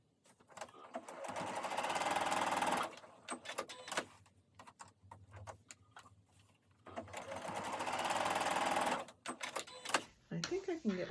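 A sewing machine stitches rows on a travel cup cozy in two long, steady whirring runs, separated by clicks, handling noises and brief low talk, then short bursts of mechanism at the end.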